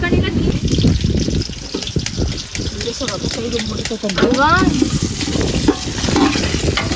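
Food is stirred in a biryani pot over a wood fire, with a loud, continuous scraping sizzle and irregular clattering strokes, while people talk throughout.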